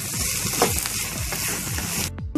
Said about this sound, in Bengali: তো আমি এটাকে আরও এক মিনিট মতো নাড়িয়ে নিচ্ছি